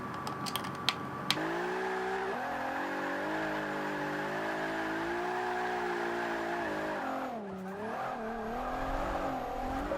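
A Nissan R35 drifts in the Forza Motorsport 5 racing game, its engine droning steadily with shifting pitch and a brief dip as it eases off, loud and continuous throughout.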